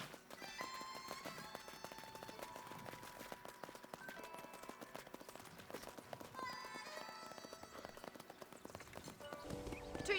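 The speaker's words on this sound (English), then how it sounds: "let's see if you can still ride a horse" Horse hooves clip-clopping on a ranch in the Red Dead Redemption video game, a steady quick rhythm of hoof strikes under game music, with an occasional whinny.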